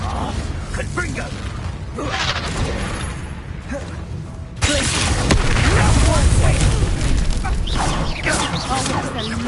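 Confringo fire-blast spell explosions in Hogwarts Legacy on PS5 land as loud, dense booms and crackling bursts. The rumble swells sharply about halfway through, while a voice shouts over the battle noise.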